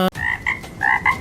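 A frog croaks close up in four loud, rhythmic bursts, each a short rasping call with brief pauses between, alone without talk.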